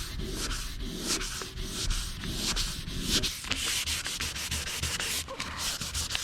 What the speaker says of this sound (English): so you could just keep sanding till it's gone.